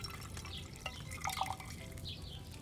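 Potion brew poured from a cauldron in the video game Kingdom Come: Deliverance 2: a faint liquid trickle with a few small drips and splashes, soft and close.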